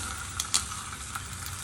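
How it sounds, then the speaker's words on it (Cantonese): Fish frying in a little oil in a pan for home-style braised fish with tofu: a steady, soft, close sizzle with a couple of brief pops and no talking. "咁呢邊煎魚咧"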